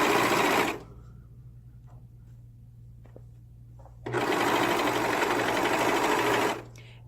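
A sewing machine stitches the armhole seam of a child's dress with a 3/8-inch seam allowance, a loud close whirring burst at the start, then a quiet gap and a longer run of about two and a half seconds.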